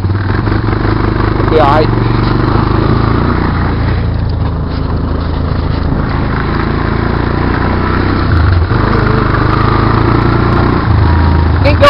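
A Honda Recon quad ATV engine runs with a steady putter that turns slightly rough at times, loud and close outdoors with wind buffeting, while someone talks briefly over it.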